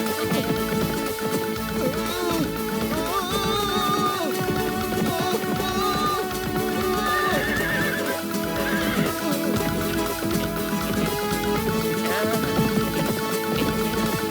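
A cartoon robot horse from a Motu Patlu episode whinnies repeatedly over a loud, continuous musical score that runs through the whole passage.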